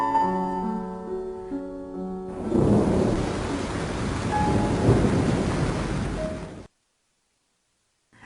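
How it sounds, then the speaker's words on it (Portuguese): Heavy rain returns during a flood in Tubarão, a loud, dense roar of downpour lasting several seconds after a stretch of music, then cutting off abruptly. "A chuva voltou com a mesma intensidade da noite anterior."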